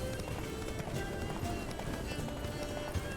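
Horse galloping in the video game The Witcher 3, a steady rapid run of hoofbeats with continuous dense clatter throughout, fairly loud and close, alone without talk.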